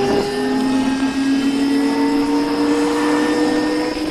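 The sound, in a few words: King Goat electric vehicle motor at full throttle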